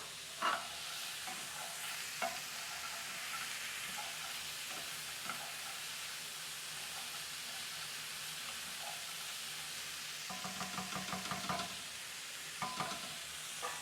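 Pre-cooked black beans go into a pan, giving a soft, quiet sizzle with scattered scraping and clinking as they are stirred, and a brief burst of louder stirring near the end.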